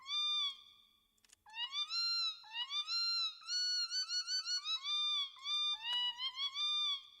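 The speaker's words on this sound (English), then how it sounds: "What about the kitty?" A cat meow sample played on a synth toy, repeated electronic meows in quick succession, some sliding upward in pitch, loud and clean with brief gaps between notes.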